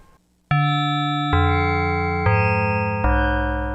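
A Yamaha FB-01 FM synthesizer on its SP Chime preset plays four bright, bell-like sustained notes in succession, each struck cleanly and ringing out loud and steady.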